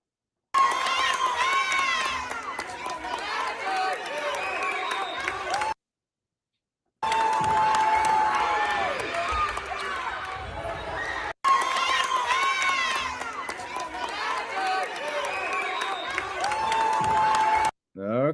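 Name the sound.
crowd cheering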